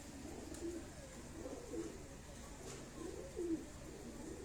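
A pigeon coos softly in a few low, rolling calls spaced about a second apart, faint against a quiet room background.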